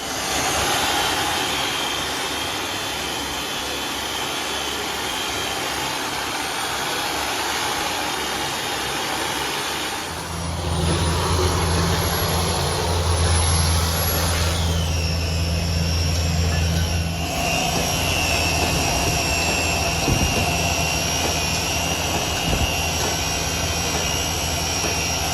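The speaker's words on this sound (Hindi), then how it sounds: "अभी बफिंग की स्टार्टिंग ही हुई है" A buffing machine fitted with a cutting pad polishes the engine of an old Royal Enfield Bullet 350, giving a loud steady whirring drone throughout, with the pitch and load shifting as the pad presses on the metal.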